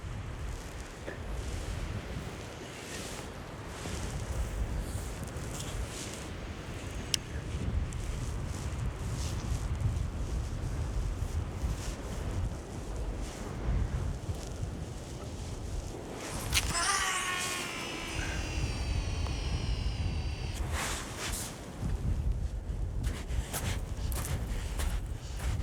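Steady wind blusters across an outdoor fishing spot, a continuous low rumbling roar throughout, with a brief whooshing swish of a rod cast partway through and no voices.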